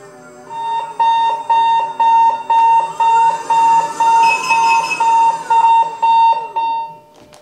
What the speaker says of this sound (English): now the alarms were essentially played in the Tesla speaker